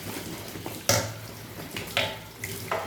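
A washable part of an American Micronic 21-litre wet and dry vacuum cleaner is rinsed under running tap water, with a steady close splashing flow and several louder bursts as it is moved through the stream.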